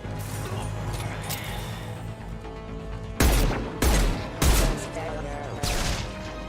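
Sci-fi gunfire in Mass Effect 2, where several loud, heavy bursts of shots cut through a humming ambient background in quick succession.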